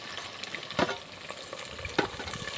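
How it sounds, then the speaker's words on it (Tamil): Onion, garlic, fenugreek and curry leaves fry in oil for fish curry, a close crackling sizzle broken by two louder stirring scrapes, with no one talking. "வெங்காயம், பூண்டு, வெந்தயம், எண்ணெய், கருவேப்பிலை. இப்போ இது ரொம்ப நல்லா வதக்கி விட்டுக்கலாம்."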